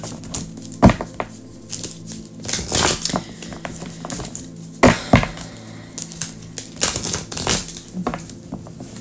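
Tarot cards are shuffled by hand at close range, giving irregular bursts of crisp riffling, slapping and papery flicks with short pauses between them, and no speech.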